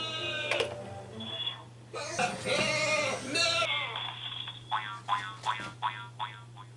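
A sheep character in the Skylanders video game bleats in a series of short, wavering cries over a steady game hum, with a brief jumble of game sounds and voices in the middle.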